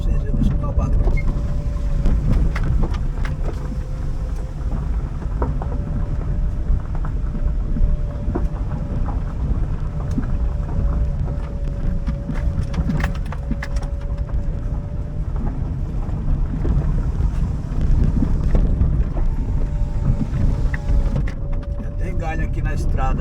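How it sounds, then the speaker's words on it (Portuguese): Strong storm wind roars outside a forest reserve in Cubatão, São Paulo, a dense, continuous rush and buffeting that stays loud throughout, with a faint tonal hum running underneath. "O vento tá muito forte."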